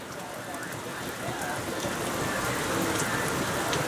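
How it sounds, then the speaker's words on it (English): Heavy rain pours steadily outdoors in a dense, continuous hiss of drops hitting surfaces, with water splashing onto a garbage can, close and loud and building slightly, with no thunder. "Oh yeah, shades, it's pouring out here now."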